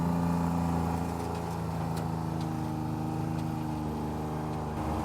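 A John Deere Gator UTV engine drones steadily while pulling a chisel plow through a field, a continuous mid-pitched motor hum with faint rattles and no breaks in the sound.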